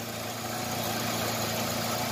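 A Chevrolet U-VA car engine idles steadily just after starting, a constant close mechanical hum with the air conditioning running and no voices.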